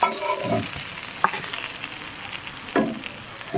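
Fish fries in hot oil with a constant crackling sizzle, interrupted by a few sharp scraping knocks of a spatula turning the pieces.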